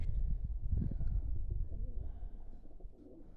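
Pigeons coo in low, soft murmuring phrases, nearby and fairly quiet, with faint background noise.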